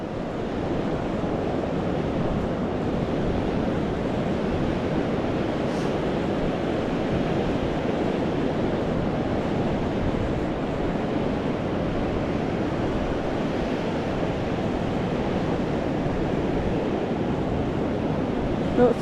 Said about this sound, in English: No, it's pretty windy. It's about 30-mile-an-hour winds.